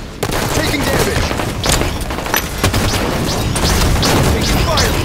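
Dense, loud gunfire in a Halo 5 ranked slayer match, rapid overlapping shots and blasts crowding the whole stretch, with a muffled voice briefly beneath the firefight.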